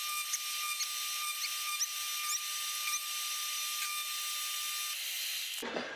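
A wooden chess board is cut into strips with a power saw, producing a steady, close, high whine with small bumps of cutting, ending in a short clatter.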